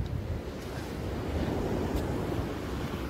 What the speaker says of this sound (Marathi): बीच वरती ही लाट एक नंबर